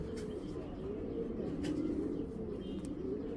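A Not breed pigeon coos softly and steadily, a low continuous murmur close by with faint chirps and no talking.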